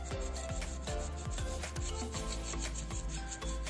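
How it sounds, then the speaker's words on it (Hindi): A brush scrubs a wet Bluetooth speaker circuit module in quick repeated strokes, a close, soft bristly rubbing with a regular back-and-forth rhythm and no talk. "सो गाइस अब इसे हम क्लीन करते हैं ब्रश से, ठीक है, ठीक तरीके से,"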